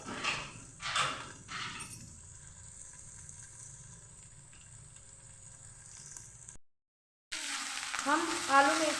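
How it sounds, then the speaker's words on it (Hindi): Potatoes and fenugreek leaves fry in a pan with a steady sizzle and some stirring scrapes at the start, then a brief silence before the sizzling resumes louder. "हम आलू मेथी को अच्छे से चला चला के भून लेंगे।"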